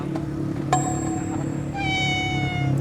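A cat meows twice nearby, a sharp rising call followed by a longer drawn-out meow, over a low steady background hum with no talk.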